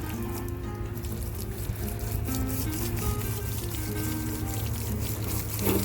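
Water pours steadily over a freshly skinned rabbit being processed outdoors, a continuous close trickling and splashing flow with a low background hum throughout.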